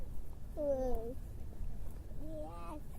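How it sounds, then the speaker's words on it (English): Two cats meow indoors, one drawn-out meow followed after a pause by a second, shorter one, both fairly close and clear over a quiet room background. "All right, kitties, let's go get you some water."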